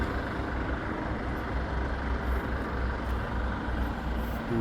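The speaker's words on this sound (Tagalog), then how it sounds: "Sa truck stop na to." Trucks at a truck stop in Udine, Italy, make a steady, dense rumble of engines and road noise that continues without a break and without talk.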